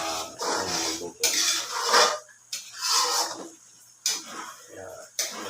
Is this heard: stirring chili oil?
yes